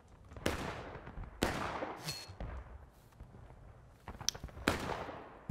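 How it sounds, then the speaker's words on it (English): Artillery in the Generals at War game fires in separate heavy booms, five or so sharp blasts spaced a second or two apart, each trailing into a rumbling decay over a low background din. "Alright, we've got some artillery things happening"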